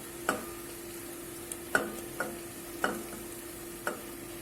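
Minced meat fries in a pan under a soft, steady sizzle, punctuated by several sharp scrapes and knocks of stirring at irregular intervals, with no voices.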